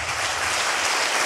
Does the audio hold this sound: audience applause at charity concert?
yes